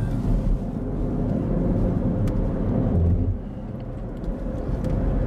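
Steady low rumble of cars driving along a road toward the Blackwall Tunnel in London, a continuous traffic drone heard from inside a moving vehicle that eases slightly partway through.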